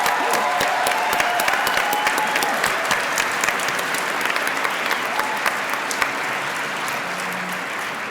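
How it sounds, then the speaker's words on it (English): Audience at a clinicians' white coat ceremony applauds steadily, a dense wash of many hands clapping that holds loud across the span and eases slightly toward the end, with faint voices mixed in. "I was going to say let's applaud the class of 2025,"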